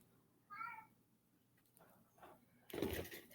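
A tiny rescued kitten gives one short, thin meow up close, followed by faint rustling and then a brief louder clatter.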